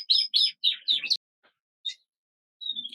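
Canary cockbirds chirping in a burst of several bright, rapid tweets, then a pause and a couple of shorter calls, fairly close and clear with no talk.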